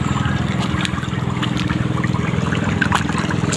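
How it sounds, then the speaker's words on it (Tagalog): A strong stream of water pours into a resort swimming pool, a steady close splashing and trickling rush with no pauses. "Lakas na ng tubig niya."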